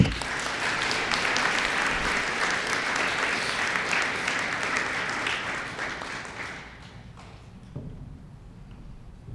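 Applause from the crowd at an eighth grade promotion ceremony after an orchestra award is given, a full sustained clapping that holds steady for several seconds, then thins out and fades toward the end.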